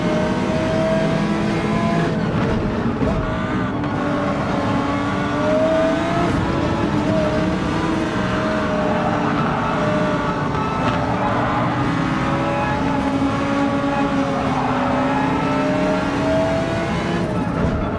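Audi R8 Evo GT3 race car engine in a racing video game, a loud continuous roar with rising and falling revs throughout, close and steady with no pauses.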